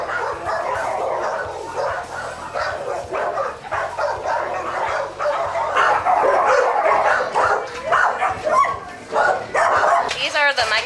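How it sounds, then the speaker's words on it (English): Rescued pit bulls from the Michael Vick dogfighting case bark and yip repeatedly at close range, with occasional whimpers, while people talk over them throughout. "These are the Michael Vick case dogs."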